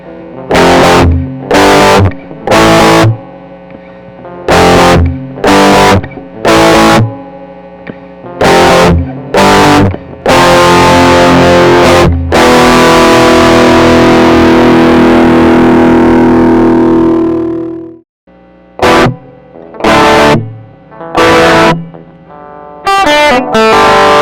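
Heavily distorted electric guitar plays crunchy chords and stabs, then a long sustained chord rings out and fades before more short hits.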